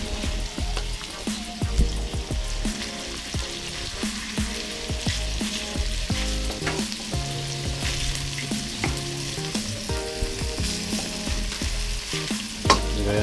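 Garlic frying in a pan while being stirred with a utensil, a steady close sizzle broken by repeated scraping and clinking strokes throughout.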